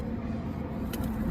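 A small truck drives along with a steady, rumbling road and engine drone. The sound is close and even throughout, with a faint brief rattle near the end.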